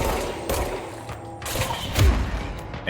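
Gunfire in the video game Control comes as bursts of loud shots and thumping impacts, dense and close throughout, with no voice.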